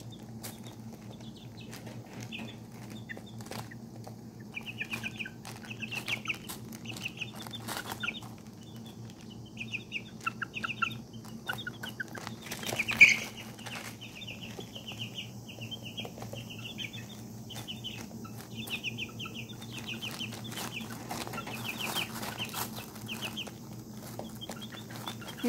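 Pheasant-hybrid chicks and tiny serama chicks and chickens cluck and peep continuously in a small indoor brooder, with soft chirps overlapping, occasional wing flaps and scratching, over a steady low hum.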